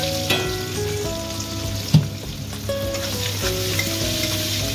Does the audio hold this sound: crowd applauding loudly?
no